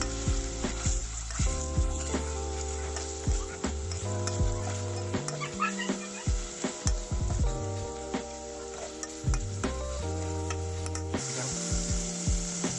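Fried masala and boneless chicken breast are mashed in a pan, with repeated scraping and tapping strokes over a continuous sizzle and a steady tonal background.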